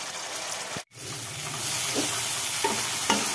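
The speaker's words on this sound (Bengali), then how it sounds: "মশলার থেকে এই যে তেল ছাড়া শুরু করে দিয়েছে, তার মানে মশলাটা ভাজা হয়ে গেছে।" Spice paste with tomato fries in oil in a pan for a fish curry, a close, continuous sizzle broken by a brief gap near the start, then stirring scrapes.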